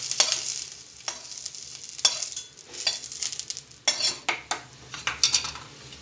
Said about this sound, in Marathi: कोथिंबीर आणि टोमॅटो भाजून घ्यायचं, मऊ शिजेपर्यंत हे सगळं भाजून घ्यायचं